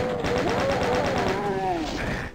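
Rapid automatic gunfire from a weapon in a pixelated retro 3D shooter, a fast regular burst of shots running almost the whole time with a voice over it.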